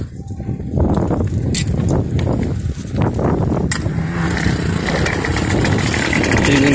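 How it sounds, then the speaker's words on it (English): Bicycle powered by a 25cc Remington weed eater engine, a loud buzzing two-stroke drone that rises and revs unevenly while riding, continuous and close. "It is a 25cc Remington 2015 engine"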